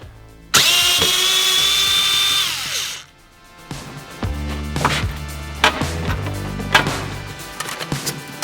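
A power drill removes dash screws on a 1976 BMW 2002. A loud, close drill whirs for about two and a half seconds and winds down, followed by clanks, knocks and handling noises of parts, with no voices.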